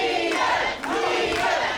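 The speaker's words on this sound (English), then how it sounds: "Prescott has the support of the crowd" Crowd at a professional wrestling match roaring and cheering loudly, a dense continuous swell of voices that dips briefly midway before rising again.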